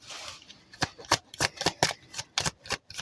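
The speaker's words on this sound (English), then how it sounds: "let's pull some cards" A deck of tarot cards is shuffled up close in a quick run of crisp riffling bursts, about a dozen sharp paper flutters in an irregular rhythm, with no talking.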